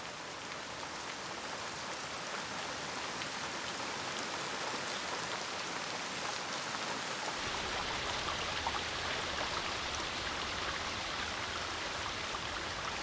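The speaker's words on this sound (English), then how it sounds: "The round, curved leaves guide the rain, drop by drop, to the trunk." Steady rain in a forest, falling on broad, round, curved leaves and dripping drop by drop down to the trunk, a dense continuous patter throughout, with no voices.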